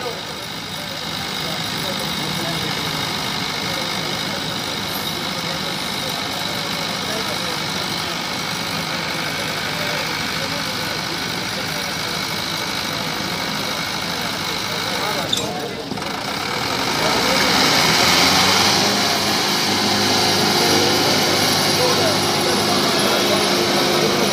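Tractor engines roar steadily at a tractor tug-of-war contest, the drone swelling louder partway through, while voices and an announcer talk over the din.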